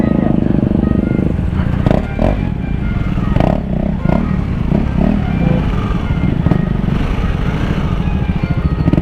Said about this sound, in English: So all in all, the bike runs perfect.